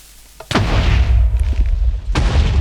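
Two loud booming blasts, one at the start and another near the end, with rumbling low noise between them, like heavy cannon fire in the video game Champions of Direct Fire.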